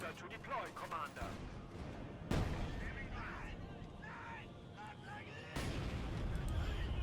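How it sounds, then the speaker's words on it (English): An aircraft strafing run hits infantry in Company of Heroes 2, with sharp bursts of gunfire and booming impacts arriving in waves beneath a commentator's continuous voice. "Strafing run getting called in on top of all that infantry."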